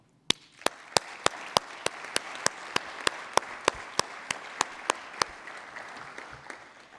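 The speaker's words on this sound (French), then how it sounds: "c'est de faire chauffer la salle et de les applaudir" Applause at a forum opening session from a small audience: a series of evenly spaced, sharp claps ringing out over a faint hall background, close and fairly loud for about seven seconds, with no voices.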